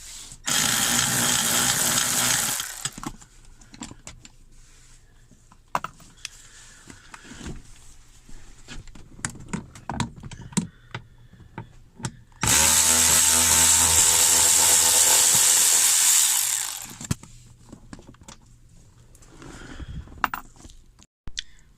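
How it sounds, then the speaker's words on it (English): A power tool whirs while 8mm bolts are removed from the rear console of a Ford F150 pickup. There are two loud bursts, one at the start and a longer one midway, with faint clicks and handling noises in between. "So this is where we start, is removing these 8mm bolts located on the left and right of the rear console."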